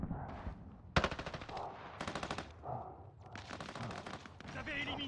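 Automatic gunfire rattles in Call of Duty Vanguard multiplayer on a Warzone map: several loud, rapid bursts with short gaps between them, mixed with game effects and a little voice in the background.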